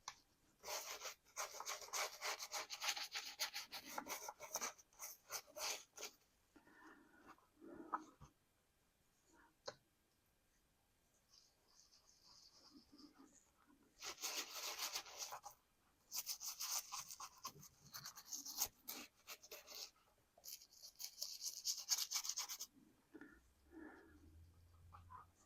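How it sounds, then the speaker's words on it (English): An old toothbrush scrubs a leather knife sheath and its belt strap up close, making bursts of quick, raspy back-and-forth brushing that alternate with pauses and quieter stretches, with no voices. "Gotta love old toothbrushes."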